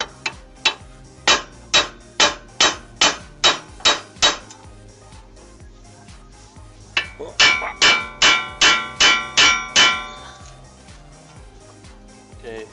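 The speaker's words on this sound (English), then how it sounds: "we're gonna hit this with a hammer" Sharp metallic hammer strikes on a 1992-96 Honda Prelude upper control arm and ball joint ring out in two quick bursts of about ten blows each, evenly spaced and loud, with a pause between the runs.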